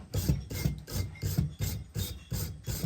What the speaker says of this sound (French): Donc là, on passe au brossage.